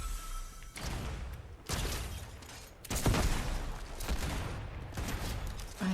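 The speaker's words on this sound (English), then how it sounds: "Someone is trying to shoot at me." Video game gunfire rattles in rough, sustained bursts separated by short gaps, loud and dense with heavy low thumps, and no voices over it.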